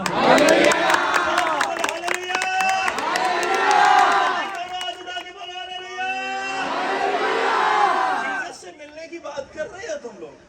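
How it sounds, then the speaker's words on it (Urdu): A church congregation shouts hallelujah loudly in praise, a big crowd roaring together in swelling waves of voices that rise, fall and rise again before breaking into scattered shouts near the end. "زور سے بولو ہاللیلویا"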